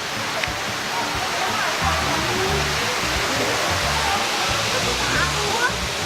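Kathu Waterfall in Phuket, a loud, steady rush of falling water filling the scene, with voices talking faintly under the roar.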